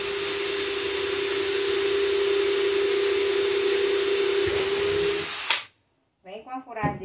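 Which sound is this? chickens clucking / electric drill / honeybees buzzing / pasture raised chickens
electric drill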